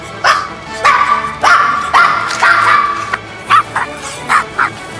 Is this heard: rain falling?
no